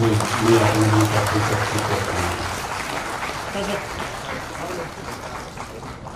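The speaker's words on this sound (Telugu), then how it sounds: "ఒక్కసారి చప్పట్లతో" A gathering at a retirement felicitation for a teacher in Siddipet breaks into applause, a dense clatter of clapping that is loudest at the start and gradually thins, with voices mixed in.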